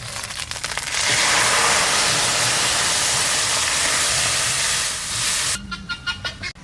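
Chickpea dal tipped into a hot pan with ginger paste and cumin sets off a loud, steady sizzle that holds for several seconds and then drops away, followed by a few soft stirring knocks.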